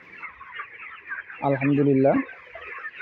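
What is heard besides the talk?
broiler chickens clucking on a farm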